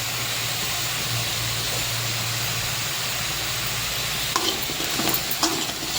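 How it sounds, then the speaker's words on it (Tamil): Radish sautéing in a pan for a dried-fish curry gives a steady, close sizzle that runs throughout, with a few louder stirring scrapes near the end. "இது வதங்கிட்டே இருக்கட்டும்"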